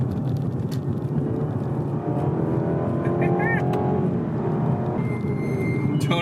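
A BMW 230i runs a lap of the Nürburgring, its engine droning steadily with shifting pitch from inside the cabin while a voice talks throughout.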